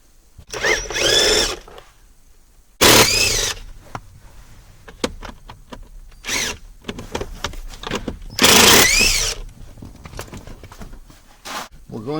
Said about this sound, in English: We're going to remove the 4 10mm bolts.